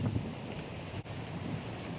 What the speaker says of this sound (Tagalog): Ayan, malakas pa yung hangin o